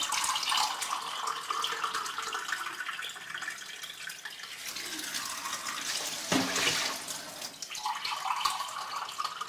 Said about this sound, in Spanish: Son 2 tazas de arroz y le vamos a poner 4 tazas de agua.